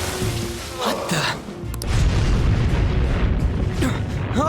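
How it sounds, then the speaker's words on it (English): A booming explosion in the video game Persona 5 Royal rumbles through a busy game soundtrack, swelling into a loud sustained roar about halfway through and continuing to the end. "An explosion?"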